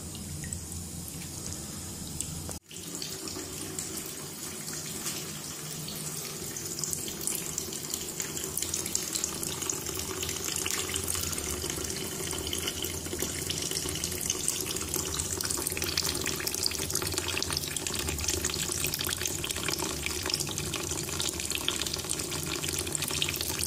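A tap runs steadily into a sink or basin during a beekeeping job of melting down old honeycomb wax with water, the flow constant and fairly close after a brief click near the start, with no one talking.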